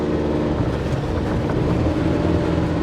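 A loaded Tata Yodha 2.0 pickup truck, carrying 2000 kg, climbs an off-road slope in first gear. Its engine drones loud and steady at close range, with a low throbbing rumble and buffeting wind noise on the microphone.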